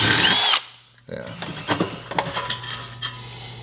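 A close electric drill whines at high pitch, stops briefly, then restarts, biting into material with rattling, clattering bursts.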